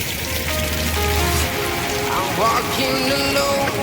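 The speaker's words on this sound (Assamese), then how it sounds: "এয়া নন ষ্টপ পানী পৰি আছে।" Steady, continuous rain in Meghalaya hisses and patters throughout, with faint voices and a few other sounds mixed in.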